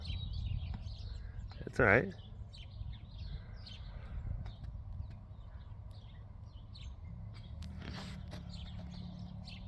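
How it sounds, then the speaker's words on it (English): Small birds chirp and tweet outdoors in short, scattered calls throughout, mixed with a low background hum, a brief louder squawk, and a person speaking briefly. "Birds are out."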